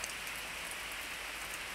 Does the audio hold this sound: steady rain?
yes